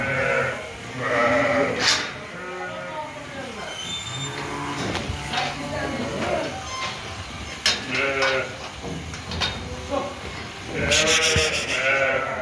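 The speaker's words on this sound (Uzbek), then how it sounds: "Toza zot, hammasining zoti bor qo'ylar." Purebred sheep bleat repeatedly, several animals calling loudly and close by at a livestock market, their wavering cries overlapping amid a noisy pen.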